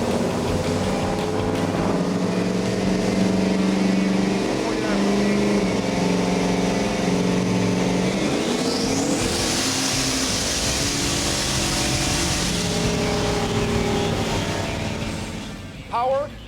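A Camaro or Firebird engine roaring on a dyno in high gear, a loud sustained drone that climbs steadily in pitch before rising sharply and then dropping off, with faint voices nearby.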